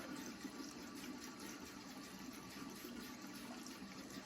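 Steady running tap water pours continuously close by during a morning skincare face wash, a broad even wash of sound with no talking.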